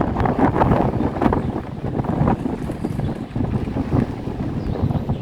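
Strong wind at sunrise buffets the microphone in heavy, continuous gusts, a loud rumbling roar that never lets up.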